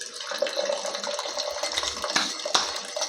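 Hot water pours into a glass in a steady, close splashing stream that runs throughout with small bursts, no talking over it.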